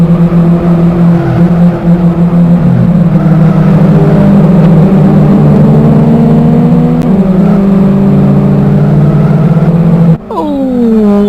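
Touring race cars in a championship race roar past in a loud, continuous engine drone that shifts pitch as they speed by, with a voice heard faintly near the end.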